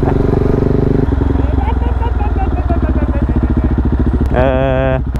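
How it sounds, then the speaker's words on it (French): Motorcycle engine drones close and loud throughout a ride, its pitch shifting as it revs, with a higher whine near the end and voices talking over it. "J'entends pas, il y a le bruit du moteur."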